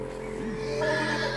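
A horse whinnies in the video game Red Dead Redemption 2, a single close neigh with a rising and falling wavering pitch, heard clearly over steady game ambience with no talk.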